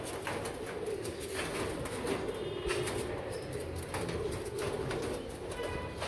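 Royal Teddy pigeons coo softly in a loft, low repeated cooing over a steady background hum, with faint wing rustles and small bird sounds mixed in.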